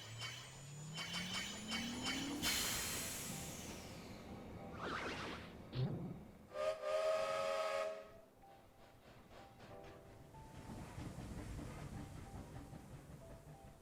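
A train in the World of Final Fantasy video game rumbles and whooshes past, with a rising tone, a short burst of whistle-like tones near the middle and fading rolling clatter afterward.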